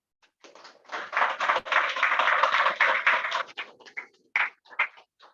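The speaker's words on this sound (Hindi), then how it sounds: "और बेहतर ताली बज सकती है मुझे लगता है।" An audience applauding at a health event in Bilaspur, a swelling round of many hands clapping that holds steady, then thins out into scattered, isolated claps before fading away.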